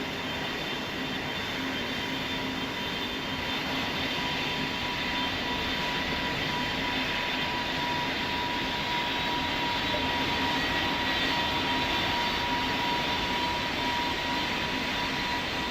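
A landing airliner in the Pilot Training Flight Simulator game, a Delta heavy jet, produces a constant loud engine roar with steady tonal whine, unbroken and close for the whole stretch.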